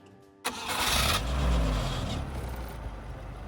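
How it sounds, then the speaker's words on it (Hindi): An old vehicle's Hurricane engine cranks and fires up with a sudden loud start, then settles into a steady, close rumbling idle. "स्टार्ट हो गया ये हरिकेन इंजन"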